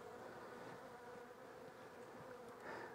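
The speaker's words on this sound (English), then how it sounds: "There's a lot of bees coming in with pollen on their back legs, which means they're foraging." Honey bees buzz steadily around a beehive during a hive inspection, a dense, continuous hum of many insects at close range, quiet overall and without talk.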